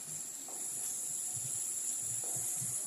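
About 300 grams of chicken sizzles in spices in a pan for biryani, giving a steady, close frying hiss with faint low bubbling underneath and no voices.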